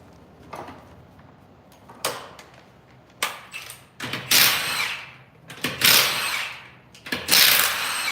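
A power tool spins lug nuts off a car wheel during a brake pad and rotor swap, heard as several short, loud whirring bursts between clanks and knocks of handling, close by.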